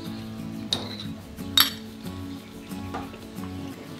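Curry and coconut milk mixture going into a frying pan and being stirred, with a few sharp clinks of a utensil against the pan over a steady low background hum; no talking.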